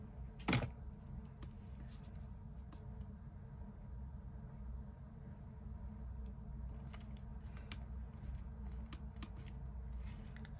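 Scissors cut paper scraps for shabby chic crafting, one sharp snip early on and then faint scattered snips over a steady low rumble, with no talk.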